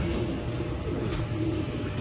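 Racing pigeons back from a toss coo at a loft in Lucena, Quezon, a few soft, low, repeated coos close by over a steady outdoor background.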